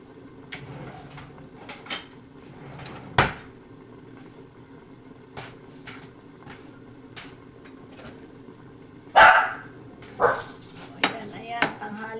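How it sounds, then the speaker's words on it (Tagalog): Pet dogs bark in short, scattered bursts at midday, a few sharp yelps spread out over a quiet kitchen backdrop with occasional clinks of dishes. "tanghali na, nagkakahulan na naman ang aking mga alaga"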